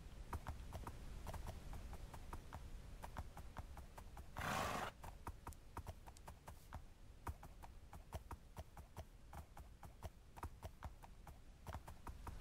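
Horses in a Minecraft Lord of the Rings mod clop steadily on the ground in a fast, regular rhythm, with one loud neigh in the middle, all quiet and fairly distant.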